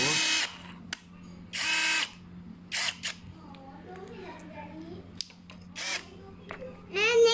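A Nanwei 21V cordless drill spins up in short bursts at its speed 1 and 2 settings, several separate loud whirring runs of a second or so, with someone talking between them.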